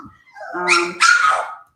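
A small dog from a house with several dogs lets out two quick, close, loud barks with a whiny, yippy edge.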